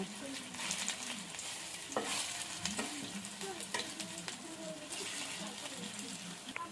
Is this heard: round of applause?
no